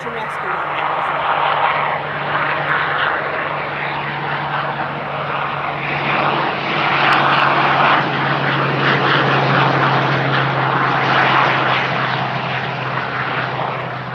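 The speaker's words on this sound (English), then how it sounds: "There's a helicopter just down on the coast." A low, steady helicopter engine drone with a constant rotor hum as it flies low along the coast near Durdle Door, loud and fairly close, with faint voices mixed in.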